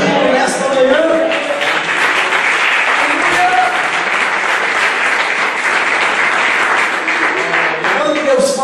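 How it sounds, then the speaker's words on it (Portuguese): A church congregation applauds in a morning service, loud, sustained clapping from many hands filling the room, with voices faintly mixed in. "Pode dar glória ao nome do Senhor e aplaudir nesta manhã."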